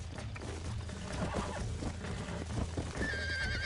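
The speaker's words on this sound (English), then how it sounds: "Looks like more of an Appaloosa horse." An Appaloosa horse in a Wild West video game neighs and whinnies over a steady clip-clop of hooves and low rumble, with a sustained high whinny near the end.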